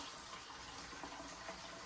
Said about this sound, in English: And we're getting hot water, warm to hot.